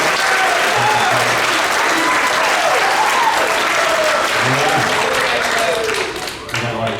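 An audience at a middle school eighth grade band concert claps steadily in a sustained, dense round of applause filling the hall, tapering slightly near the end, with some voices faintly mixed in.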